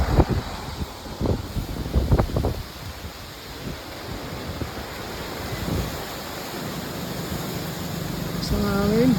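Steady broadband wind rushes and gusts across the microphone, with people talking nearby early on and some rustling.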